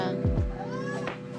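Cats meowing, a close, short mewing call over steady background noise with some people talking nearby.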